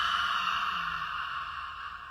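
A long, steady exhale out through the mouth during a guided meditation, a soft breathy rush that holds evenly for about two seconds, close and alone with no talking.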